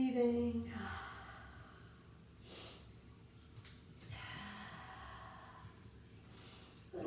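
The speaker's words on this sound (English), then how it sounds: "Breathing." Slow, soft breaths are drawn and released during a relaxed standing forward fold in a kitchen yoga session, with a few sigh-like exhales and snorts spread across several seconds, quiet and close.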